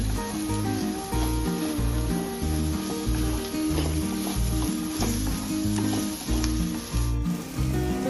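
Tomatoes and masala sizzling in a pan for masala dosa filling, a steady loud frying hiss with rhythmic scraping strokes of a spoon stirring throughout, no talk.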